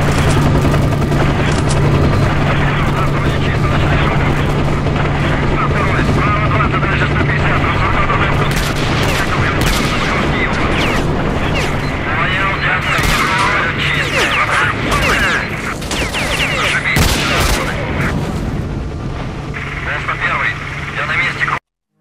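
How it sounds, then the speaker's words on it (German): In S.T.A.L.K.E.R.: Shadow of Chernobyl, helicopters fire their guns: dense, loud, rapid bursts of gunfire and booms run over a low rotor drone for the whole stretch, with a voice talking at times. "Wenn ich stehen bleibe, dann ballern mich die Hubschrauber ab."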